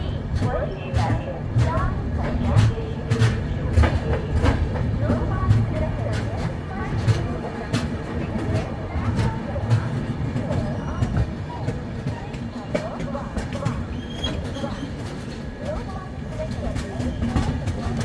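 A Duronto Express passenger train runs on rails after leaving Solapur, heard from inside a 2AC coach: a steady rumble with repeated clacks of wheels over rail joints and occasional squeal, with voices talking over it.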